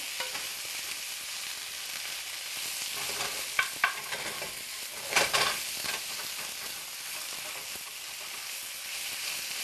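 Swiss chard, onions and garlic stirred together in a pan, a steady soft sizzle broken by a few scraping, clacking stirs midway, close and alone with no talk.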